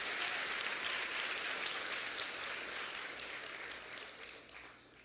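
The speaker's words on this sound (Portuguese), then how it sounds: "Dá uma salva de palmas para Jesus" A church congregation claps during a sermon, a thick wash of applause starting at full strength and gradually thinning and fading over a few seconds.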